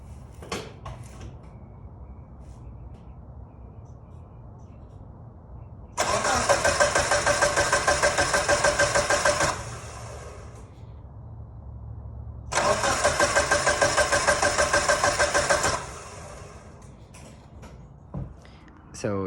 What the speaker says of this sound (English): So go ahead and crank it over and see how it sounds now.